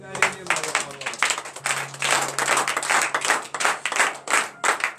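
A church congregation standing and clapping in acclamation at morning prayer, steady and loud, dense overlapping handclaps with voices mixed in underneath.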